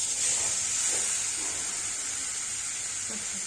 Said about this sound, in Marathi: कैरीचा खीस घालूया।